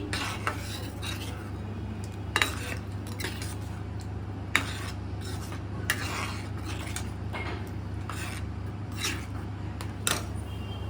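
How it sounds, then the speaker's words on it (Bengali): Butter garlic prawn ingredients being mixed in a bowl with a utensil, giving steady scraping and stirring with sharp clinks of metal against the dish at irregular intervals, close and moderately loud, with no talking. "সমস্ত উপকরণ ভালোভাবে আমি মিশিয়ে নিচ্ছি"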